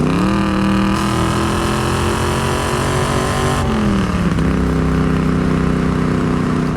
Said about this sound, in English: We'll slow down and do one little third gear pull here.